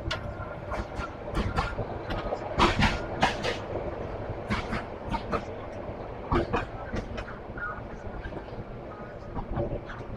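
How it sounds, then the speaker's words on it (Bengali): The Parjotak Express rolls along the Cox's Bazar line, its wheels beating out a steady clickety-clack over a continuous rumble heard from inside the carriage. "আর আমাদের ট্রেন এই মুহূর্তে ঢুকে গেল কক্সবাজারের লাইনে"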